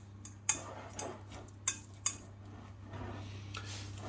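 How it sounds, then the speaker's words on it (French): Potatoes are mashed in a bowl with a utensil, giving faint scattered taps and soft squelches at an irregular pace over a low steady hum, with no voices. "Alors j'écrase les patates"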